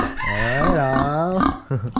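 A chicken calls loudly at close range, with one long drawn-out, crow-like cry followed by a few short clucks.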